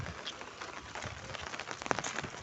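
Rain pours onto a road, which has turned into running water along its length. A steady, fairly faint hiss of rainfall and splashing continues throughout, with a few brighter drips and splashes near the end and no talk.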